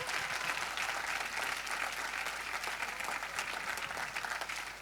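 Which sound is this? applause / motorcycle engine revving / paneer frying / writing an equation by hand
applause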